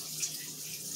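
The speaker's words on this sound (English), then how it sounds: "So yeah, I wash them off one more time again." Water runs steadily from a kitchen tap while red snapper is rinsed, a soft, even hiss with no break.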